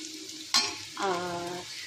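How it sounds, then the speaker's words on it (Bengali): Bitter gourd and potatoes frying with onion and chilli, a quiet close sizzle that briefly flares louder as the pan is stirred, then settles into a steady crackle. "এই উচ্ছে আলু ভাজা, পেঁয়াজ দিয়ে লঙ্কা দিয়ে"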